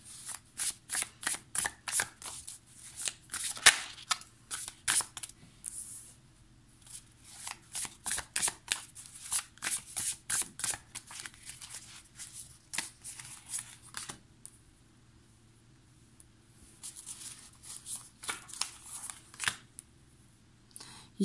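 Tarot cards are shuffled by hand in repeated quick riffling bursts, crisp and close, with short pauses between rounds and no talking.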